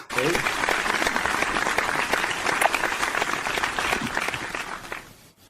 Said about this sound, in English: Round of applause for Shy.